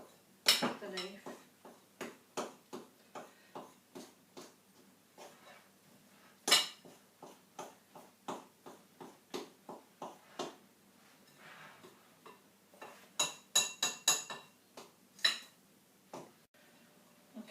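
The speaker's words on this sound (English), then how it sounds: "just keep cutting into the butter or margarine, and don't leave the big clumps of it in your flour" A knife cuts butter into flour in a bowl for a Scottish clootie dumpling, giving a quiet run of regular clinks and taps against the bowl, with some louder knocks and faint talk in the background.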